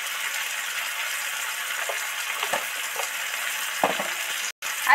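Spices and sugar fry in hot oil with a steady close sizzle, broken by occasional scrapes and clinks of stirring.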